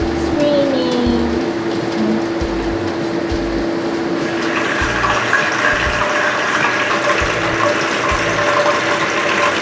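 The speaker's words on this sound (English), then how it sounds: "It's raining." Steady hiss of rain falling, continuous and fairly loud, with a low rumble and occasional thuds underneath; no voices.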